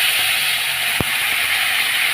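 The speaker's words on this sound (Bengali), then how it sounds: "এখন আমি জল দিয়ে দেবো।" Water hitting a hot frying pan of fried mango for a sweet chutney, a loud steady hiss of steam close by with one brief knock, no talk.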